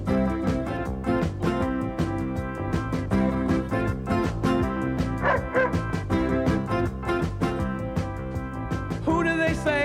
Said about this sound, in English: OK, Peter, can we go and see the police dogs in action?